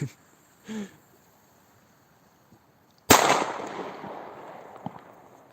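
A single sharp firecracker bang rings out after a quiet stretch on New Year's Eve, followed by a crackling tail; a brief faint pop and small knock come earlier.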